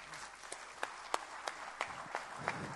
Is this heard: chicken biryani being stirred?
no